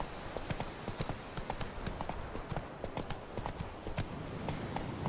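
Roach the horse gallops in The Witcher 3 video game, with steady, rapid hoof clip-clops in a close, even rhythm that carries through the whole stretch without a break.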